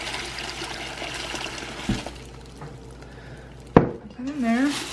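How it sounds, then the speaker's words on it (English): Water added to a pot of turkey brine, with splashing and trickling, a sharp clank of the pot near the middle, and a voice speaking over the sloshing at the end. "I'm gonna add more water"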